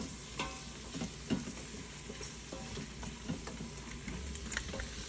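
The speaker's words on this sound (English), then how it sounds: "cook until the veggies start to soften up" Vegetables for a green bean casserole sauté in a pan, giving a steady close sizzle with occasional stirring scrapes and soft clicks, no voices over it.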